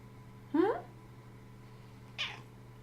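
A pet cat gives two short, close meows about two seconds apart against quiet room tone.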